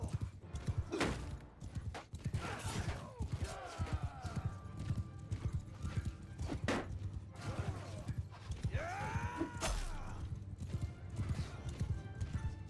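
Horses gallop in the video game Bannerlord, a dense continuous clip-clop of hooves with several whinnies and neighs, under battle noise and occasional talk.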